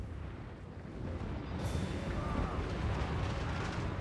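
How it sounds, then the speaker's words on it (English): Cannon fire in Total War Warhammer 3 battle, a dull rumbling blast that swells into sustained booming and crackle amid loud low-end battlefield noise. "A little bit of a cannon shot right into you."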